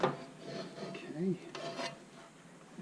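A spoon scrapes and sloshes as meatballs and sausage are stirred into a pot of tomato sauce, a soft, close, irregular rubbing with a light clink of the pot.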